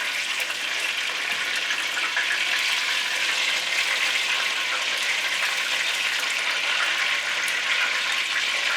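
Breaded pork meat sticks fry in a pan with a steady, close, continuous sizzle and crackle that stays even throughout and is not covered by any voice.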